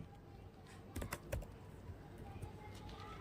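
Code being typed on a computer keyboard, a faint run of quick key clicks with a few louder taps near the middle, close and without talking.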